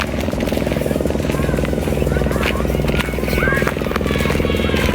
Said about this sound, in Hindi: मुझे यहाँ पे ना हेलीकॉप्टर की भी आवाज़ आ रही है